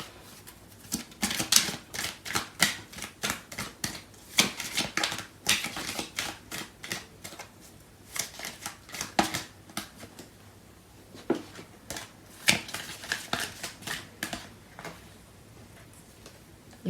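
Tarot cards are shuffled and handled up close, giving irregular bursts of crisp, rapid flutters and taps with brief pauses between them, steady in the foreground of a quiet room.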